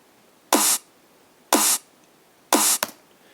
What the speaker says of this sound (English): you're going to grab your claps, and you're just going to move them slightly to the left so that they come out a little bit faster than the snares do.